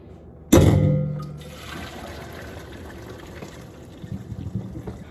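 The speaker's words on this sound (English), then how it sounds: "I always put the strainer in the sink to create less mess, and then just drain the noodles like so" Pasta noodles and their water pour out into a strainer in a kitchen sink, starting with a sudden loud gush that tapers into a steady draining rush and trickle.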